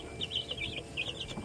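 Rhode Island Red chicks peeping in a brooder, a rapid overlapping run of high chirps from several birds close by, with soft rustling beneath.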